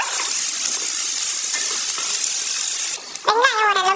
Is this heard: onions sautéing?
yes